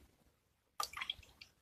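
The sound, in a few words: liquid dripping back into a pot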